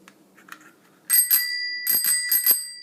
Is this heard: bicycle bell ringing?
yes